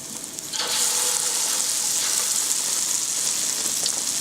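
Light beer-battered fish dropped into really hot oil, a sudden loud hissing sizzle that bursts in after a quieter start and holds steady, dense and close.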